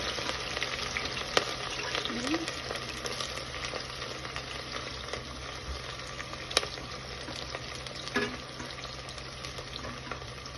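Green chillies fry in a pan with steady, close oil sizzle and crackle throughout, a few sharp pops breaking the even hiss while a utensil stirs now and then.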